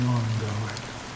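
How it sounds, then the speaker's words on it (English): Steady rain falls in a video game, a dense even hiss with a low hum underneath, continuous and fairly close. "How long has this rain been ongoing?"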